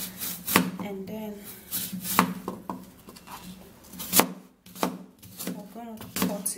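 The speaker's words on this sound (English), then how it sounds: "I'm gonna cut it." A knife cuts through an apple in a kitchen, producing repeated crisp chopping and rubbing strokes at an uneven pace, fairly close and clear, with occasional background sounds between the cuts.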